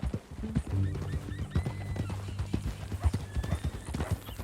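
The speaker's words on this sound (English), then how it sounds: "That a new horse?" Horse hooves clip-clopping in Red Dead Redemption 2, a steady rhythmic walking gait close by, with a brief whinny and faint background sounds and no talking.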